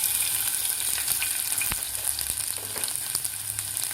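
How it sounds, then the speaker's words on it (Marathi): Garlic frying in hot oil with cumin seeds for a peanut chutney, a loud continuous sizzle with light stirring sounds, no voices. "त्यानंतर घालायचं आपल्याला यामध्ये लसूण."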